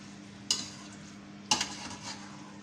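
Vegetable Chinese macaroni with green onions is stirred in a pan, two sharp metallic spatula clanks a second apart followed by soft scraping over a faint sizzle.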